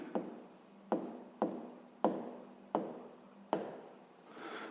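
Pen or marker strokes writing out a sixth-grade geometry solution on paper or board, six distinct scratchy strokes each starting with a sharp attack and trailing off, close and fairly quiet, no talking.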